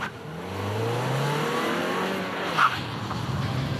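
City SUV pulling away and accelerating on a road, engine note rising steadily through the gears at moderate distance, with a brief higher squeak near the end and no talk.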